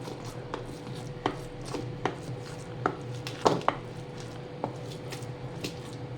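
Cooked rice mashed together with dal in a pot for Rayalaseema-style ragi sankati, giving a series of soft, irregular utensil taps and squishes over a low steady background hum, close by with no talking.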